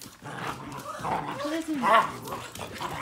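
Puppies whimpering and yipping at home, with small whines and yips scattered across the span amid a woman's speech and background household noise.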